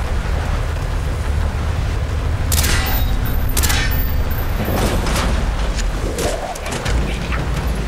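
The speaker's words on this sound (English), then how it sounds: "Shoot the hinges!" Gunshots aimed at door hinges in Call of Duty Black Ops crack out in several sharp bursts over a loud, rumbling background, followed by a lower swooshing rumble.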